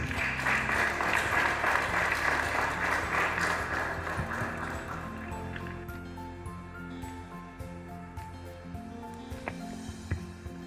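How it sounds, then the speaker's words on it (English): An audience applauds at a youth civil society project event in Nigeria, loud sustained clapping that fades after several seconds into a quieter room. "can we applaud him again?"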